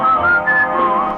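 A clear, melodic whistled tune, close and steady, with a wavering pitch that slides between notes over a soft musical backing.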